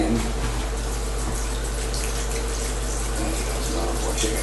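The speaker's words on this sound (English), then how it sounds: "I'm going to rinse my hand." Water runs steadily from a kitchen sink faucet as a hand is rinsed under it, a close, even rush with little change throughout.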